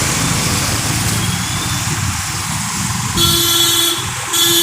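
A vehicle horn on a road in Nalbari sounds near and loud in two blasts, a long honk followed by a shorter one, over the steady rumble of passing traffic.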